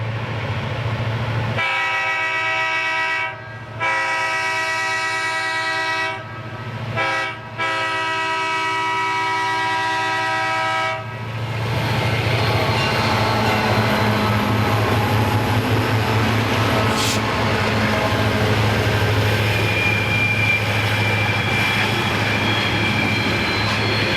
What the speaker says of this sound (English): Now the train at Austin has the helpers on the rear with a better pace.